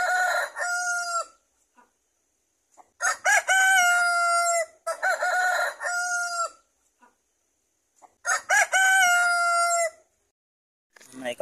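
Rooster crowing repeatedly in four long calls with short clucks between, near and loud, on a farm where native chickens are kept penned, with no talk.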